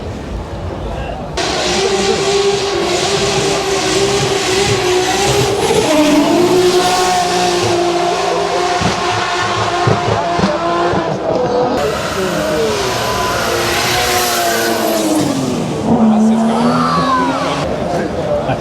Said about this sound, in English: Currently the drifters are going up the hill, so the smell of tyre smoke is thick in the air.